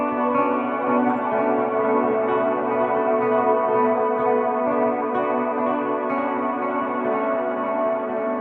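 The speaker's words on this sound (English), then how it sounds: "then turn on reverb and delay" Sustained electric guitar chords through an SNK ThVnderCr4cker hybrid amplifier, ringing out with heavy reverb and echoing delay, a steady wash of tone with no talking.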